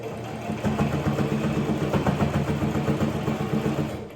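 A sewing machine runs steadily at close range, stitching bias tape onto a fabric face mask with a rapid, even mechanical whir and no pauses.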